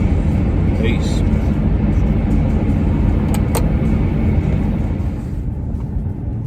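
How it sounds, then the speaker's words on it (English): Steady low road rumble and engine drone fill the interior of a car driving home late at night, loud and continuous, with a faint click or two and no voices. "I am just driving home."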